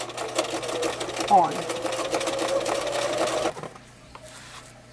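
A sewing machine stitches binding onto a potholder in a fast, steady run of needle pulses, close and loud, stopping abruptly near the end, with a brief spoken word.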